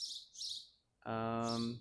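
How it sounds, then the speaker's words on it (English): Birds chirp outdoors in a yard in bright, repeated bursts, and then a person makes a brief hesitant sound as the chirping continues. "You can hear the birds chirping again."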